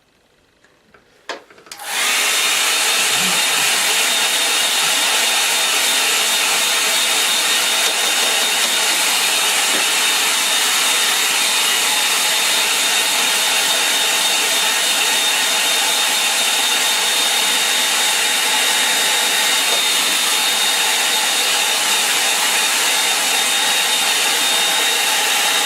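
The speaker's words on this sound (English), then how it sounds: "I'm trying to find my hairdryer." A hairdryer switches on after a couple of soft knocks and then runs loud and close, a steady, unbroken whooshing whine of blowing air that holds unchanged for over twenty seconds.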